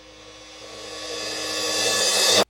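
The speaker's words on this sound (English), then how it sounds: "It now reverses the sound and it sounds like this now." A cymbal reversed in Pro Tools swells from faint to loud over about two and a half seconds as a bright, hissing wash, then cuts off abruptly, heard alone.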